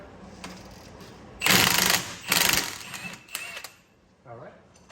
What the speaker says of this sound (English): I removed the 22mm nut